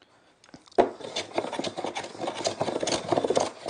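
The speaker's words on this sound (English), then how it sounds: "what you'll hear is a constant sound of the blade cutting" A No. 4 hand plane with its blade corners taken off is pushed across wood on the skew. After a sharp first bite it gives a close, continuous rasping shave lasting several seconds.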